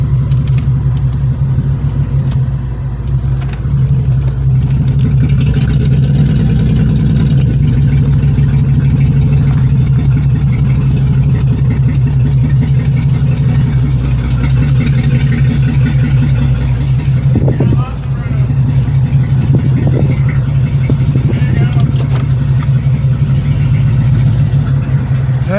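A 2006 Pontiac Grand Prix idles with a heavy misfire, its rough, lumpy mid-pitched rumble steady and loud throughout, with no voices over it.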